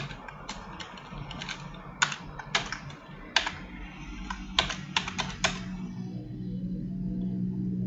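Typing on a computer keyboard at a desk, with close, crisp keystrokes arriving in quick irregular bursts over a low steady hum, then stopping and leaving only the hum, with no talking.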